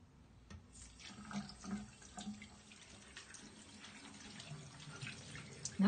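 A water tap runs into a sink as Aztec clay mask is rinsed off a face, a faint, steady splashing stream with a few louder gushes and splatters from hands in the flow.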